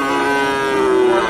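A black Friesian cross bull at a busy cattle market lets out a single loud, sustained moo, close and clear, lasting just over a second.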